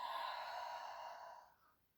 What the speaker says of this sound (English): Again, nice steady breath in